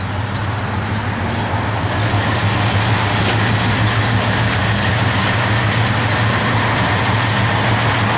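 A 1968 Chevrolet Chevelle SS engine idles with a steady, loud, deep rumble, close by and continuous without pauses.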